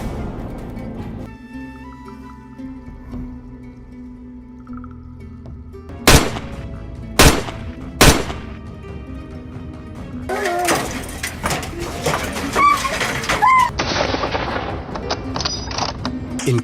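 Hunters fire three sharp, loud gunshots at a wild boar in quick succession, followed by a stretch of rustling, clattering movement in the background.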